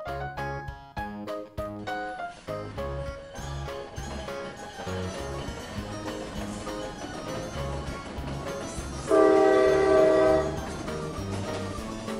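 A small toy train rattles steadily along its toy railway track with rhythmic clicking and clacking, then a brief loud whistle toots near the end over background music.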